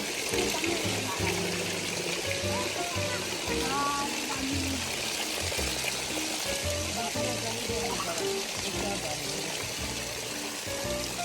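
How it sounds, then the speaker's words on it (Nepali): Water runs steadily in a stream at a cafe in Pokhara, a constant rushing trickle throughout, with people talking over it. "कति धारा हो यो"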